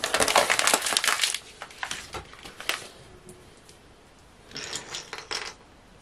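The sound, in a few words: pouring sugar into a pot for syrup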